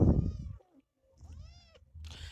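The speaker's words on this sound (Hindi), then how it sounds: "आजकल हमारे घर में एक बिल्ली आई हुई है" A house cat meows indoors, two drawn-out rising-and-falling calls separated by a short pause, fairly quiet against low room noise.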